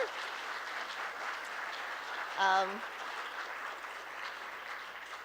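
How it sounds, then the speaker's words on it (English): A crowd claps and applauds steadily for several seconds, with a brief voice murmuring partway through. "give her a huge round of applause"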